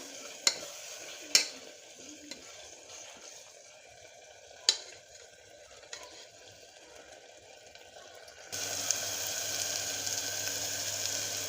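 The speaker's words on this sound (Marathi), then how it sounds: "दोन मिनटं परतून देणार आहोत चांगलं" Intermittent scraping and stirring of masala sautéing in a pan with a soft sizzle underneath, a few sharp clinks of a spoon, then a steadier louder frying hiss.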